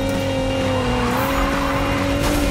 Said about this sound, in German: Ist ein geiler Drift Train, Leute.